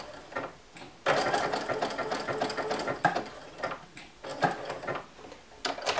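A sewing machine stitches a travel wrap up to a fabric corner in several bursts of rapid mechanical ticking, with short pauses and restarts between runs, close and clear.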